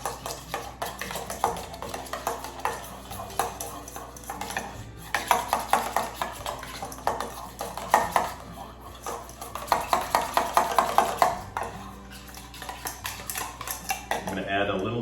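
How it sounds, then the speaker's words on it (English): A spoon stirs a sriracha mixture in a bowl, with quick repeated clinks and scrapes of metal on the bowl coming in busy bursts over a faint background. "And then I'm going to stir that"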